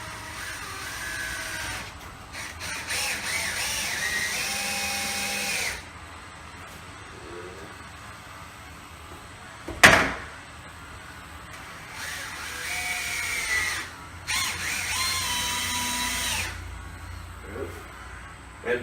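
A power drill drives cap-head cabinet screws into a kitchen cabinet during installation, giving several separate whirring bursts of a few seconds each with brief pauses between them, fairly close and moderately loud, with no talking.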